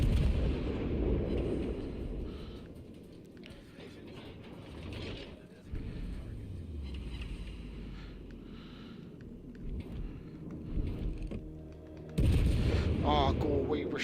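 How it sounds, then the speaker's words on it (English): Battleship turrets fire armor-piercing shells during a World of Warships Legends naval battle, heavy booming artillery and mechanical clanks rolling under continuous game noise, with a loud burst of gunfire near the end. "we're going to fire some armor piercing at him and see what that does"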